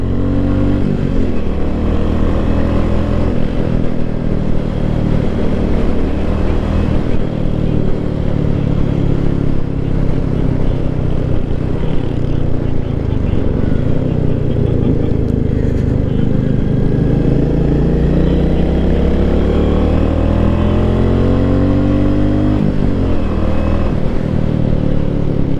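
A 2024 Royal Enfield Meteor 350 single-cylinder motorcycle being ridden, its engine droning steadily and loud throughout with rising and falling pitch as the rider shifts through the gears and accelerates, with wind rumble behind it.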